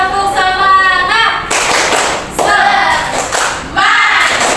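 Classroom group doing a rhythmic spirit clap, with bursts of clapping and thumps in short sets broken by children's voices chanting between them.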